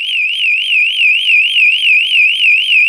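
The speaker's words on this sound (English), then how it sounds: "the TPASS-3 also has the ability to activate a manual panic alarm by pressing the front button on the" A Grace TPASS-3 lone worker device sounds its manual panic alarm, a loud, continuous piercing electronic tone that warbles rapidly up and down for the full length, alone with no other sound.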